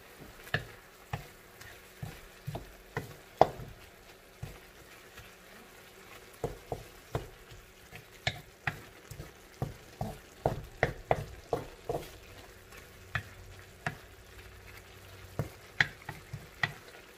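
Pork being stirred in a pan with a utensil, giving a long run of sharp scraping and clicking strokes at an uneven rhythm over a soft background, close and fairly loud.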